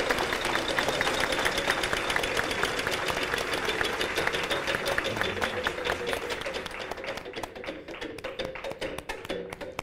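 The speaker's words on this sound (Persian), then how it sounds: "ما هم تشویقش کنیم." A studio audience on a Wheel of Fortune style game show claps in sustained, dense applause that holds steady, then gradually thins into scattered individual claps toward the end.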